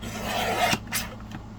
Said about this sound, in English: we need to chop off part of this